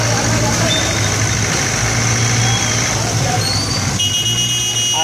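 Steady idling hum of a car engine after it had been towing another car and got tangled, a low drone with a faint buzzing tone, loud and continuous, with voices murmuring in the background.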